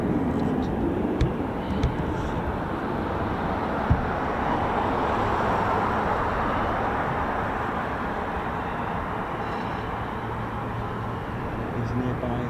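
KC-135 tanker aircraft operating nearby at an RAF airfield, giving a steady, moderately loud engine rumble and rush that eases slightly toward the end, with a few faint clicks over it.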